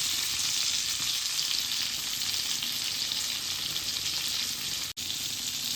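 Mackerel stuffed with green herb masala fries in a pan, producing a dense, even sizzle that stays loud and close throughout with only a momentary drop near the end.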